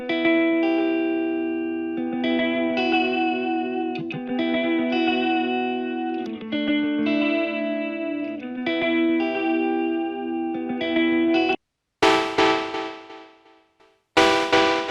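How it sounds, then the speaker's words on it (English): A sustained electronic tone treated with a chorus effect from a modulated delay time, shimmering and thickened with slight pitch wobble, plays loud and steady for about eleven seconds, then gives way to short bright bursts with gaps. "By modulating the delay time, you create vibrato or the classic chorus effect."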